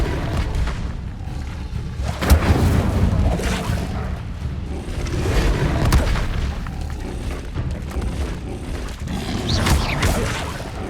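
In Hogwarts Legacy, the Incendio fire spell is cast amid dense game combat, with loud booming bursts and whooshing fire blasts layered over continuous rumbling action.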